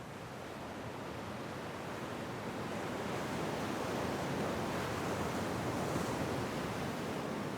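Ocean surf pounding the rocks along the Malecón seafront drive in Baracoa, Cuba, a steady, dense roar of crashing waves that holds loud throughout with no voices.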